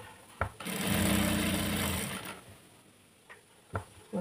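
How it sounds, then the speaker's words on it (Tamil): A sewing machine stitches a store-bought nighty along a marked line in one fast, rattling burst of under two seconds, framed by a few soft clicks and handling knocks. "நம்ம எங்கே மார்க் பண்ணியிருக்கோமோ அந்த லைன் மேலே அப்படியே ஸ்டிச் பண்ணிக்கிட்டே வரணும்."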